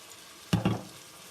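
A pan of food with soy sauce and beer gives off a sudden short hiss in two quick bursts, then settles back to a faint background. It sounds close and brief, with no speech.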